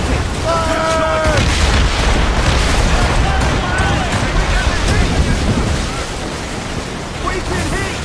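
Ship cannons fire on command in Assassin's Creed Rogue, heard as heavy booms within a dense, roaring wash of sea and battle noise, with shouting voices layered throughout.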